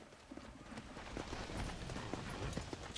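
Horse hooves clip-clop at a run in the Red Dead Redemption: Undead Nightmare video game, a quick steady beat set fairly low under game ambience, with no clear talk.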